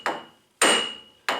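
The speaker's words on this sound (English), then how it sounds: "that's the sound of a solid hit, meaning that it's bottomed out" Three solid, close hammer hits land on a bottomed-out workpiece, each with a sharp metallic ring and a short decay.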